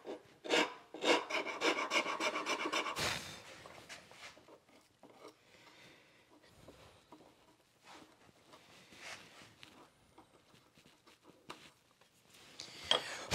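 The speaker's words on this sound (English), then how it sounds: "getting those burns out takes a fair bit, so that's why I chose to use a rasp." A rasp files a piece of wood to smooth out burn marks, with rhythmic scraping strokes that are loud at first and then continue as softer, intermittent rubs.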